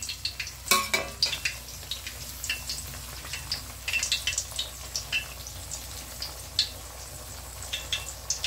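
A paste of ginger, garlic, onion and chili fries in oil with a steady, close sizzle, broken by repeated scraping and tapping from stirring at an uneven rhythm.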